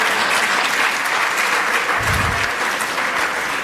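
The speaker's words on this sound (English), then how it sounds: "So give me a round of applause for all of that." A tech summit keynote panel audience in Freeport gives a close, loud and sustained round of applause, with a brief low thump partway through.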